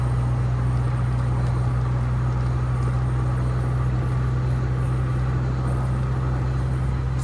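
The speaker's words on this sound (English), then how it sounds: "Let's take it out for a quick little test drive and show you what it's like to go for a ride in the DeLorean" A DeLorean time machine replica on a test drive gives a steady, low rumble of engine and road noise from inside the car, with no talking.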